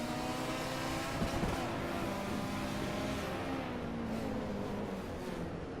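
Race car in a Hot Wheels video game accelerates hard off the line, its engine a continuous loud strained roar climbing in pitch through gears over several seconds.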